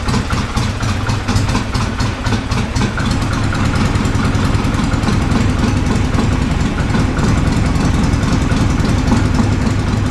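Harley-Davidson Ironhead Sportster engine with a Cycle Electric generator running steadily at a high idle, a loud, continuous low rumble with rapid regular firing pulses and no talk.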